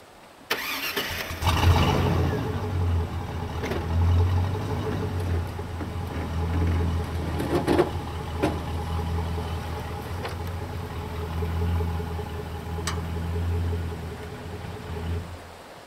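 A truck engine cranks and catches, then settles into a steady low rumbling idle that runs close and continuous, with a few knocks and clunks over the top.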